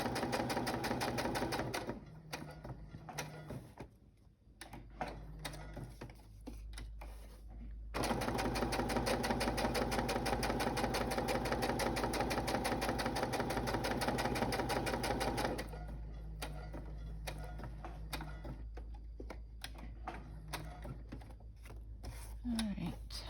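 A sewing machine stitching through the paper pages of a farm-themed journal, making rapid, steady mechanical clatter in long runs broken by short pauses, with some talking in between.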